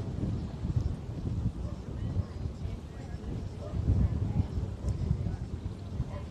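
Wind buffets the microphone in low, rumbling gusts throughout, steady with occasional stronger bursts, during a sunset ride through island backstreets in Key West; a voice can be faintly heard underneath.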